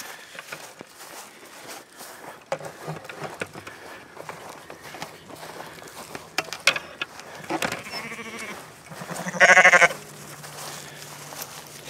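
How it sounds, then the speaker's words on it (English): Sheep bleat in the open amid footsteps and rustling, with one loud, clear bleat standing out near the end. "I'll show you guys the sheep."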